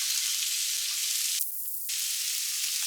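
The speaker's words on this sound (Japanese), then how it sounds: "ナスの水気を切って焼きます。" Drained eggplant sizzles in a hot frying pan for packed lunch cooking, a steady bright hiss that swells louder for a moment partway through.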